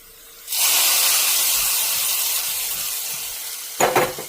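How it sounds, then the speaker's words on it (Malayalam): Hot tempering poured into a prawn and ridge gourd curry bursts into a loud, sustained sizzling hiss that slowly fades, followed by a short clatter near the end. "ഇനി നമുക്കിത് നമ്മുടെ കറിയിലോട്ട് ഒഴിച്ചു കൊടുക്കാം."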